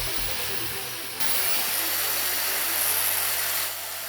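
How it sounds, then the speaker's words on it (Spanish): A 220-volt, 800-watt angle grinder runs off a homemade generator built from microwave-oven transformers, giving a steady, loud motor whine and hiss that swells in pitch partway through and then eases slightly toward the end, with no talking. "Vamos a conectar también una amoladora angular que funciona a 220 voltios"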